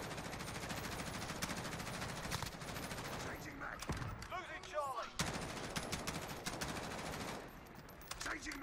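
Automatic M4A1 rifle fire in a video game, dense sustained bursts nearly throughout with a brief gap midway, loud and close, with a player's voice talking over parts of it.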